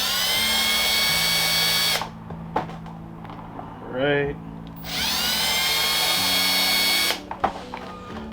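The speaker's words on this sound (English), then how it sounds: "so now I'm going to drill a little bit further in" A power drill whines at high speed in two long bursts, drilling into a Mitsubishi Lancer Evo X bumper, with a short pause between where someone speaks briefly, then a few clicks.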